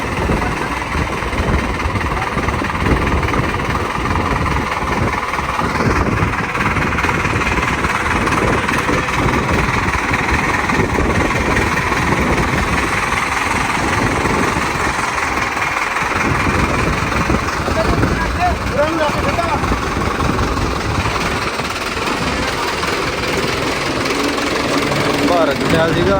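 A farm tractor engine runs continuously at close range, a loud steady low rumble lasting throughout, with people talking over it.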